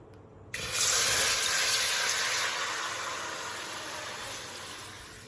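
Tap water gushes into a pot, nine cups for two servings of Korean kalguksu noodle broth: a steady close rushing stream that starts abruptly and slowly softens as the pot fills, with no talking.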